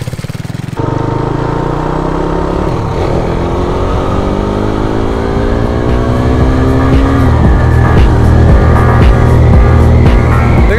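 A motorcycle on a test ride starts up and accelerates hard, its close, loud engine note rising in pitch through a long pull with brief dips between revs, alone without talk.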